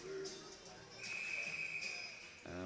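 A referee's whistle at an ice hockey game, a single sustained shrill blast lasting about a second amid rink crowd noise.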